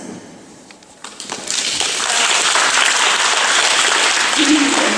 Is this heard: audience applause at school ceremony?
yes